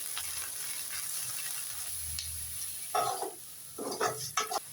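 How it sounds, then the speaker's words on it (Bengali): Water poured into a pan of frying dried fish (loitta and churi shutki) sets off sharp bursts of sizzling and hissing after a steady low frying crackle, loud and close, with no talking. "কিছুক্ষণ শুটকিটাকে ভাজার পর এখন একটু পানি অ্যাড করে দিচ্ছি আমি।"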